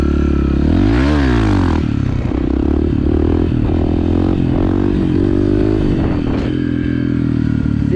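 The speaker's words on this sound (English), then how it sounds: "I didn't use the brake a single time in that wheelie." Motorcycle doing a wheelie, loud close engine roaring and revving steadily throughout with rising and falling pitch sweeps, no braking, no talk.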